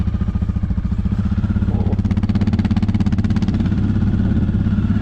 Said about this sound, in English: I gotta respect the smooth engine of this KingQuad